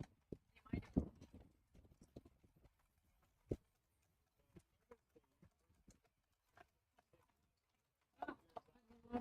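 Horses' hooves clip-clop in scattered, moderately distant strikes along a harvest days parade route in Battle Ground, with quiet gaps and a busier burst of crowd and street noise near the end.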